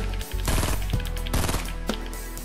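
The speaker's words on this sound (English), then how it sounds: "I'm gonna shoot this sky bridge." Gunfire in a video game aimed at a sky bridge: two dense bursts of rapid automatic shots, the first from about half a second to one second and the second around one and a half seconds, loud and close, with game sound continuing between them.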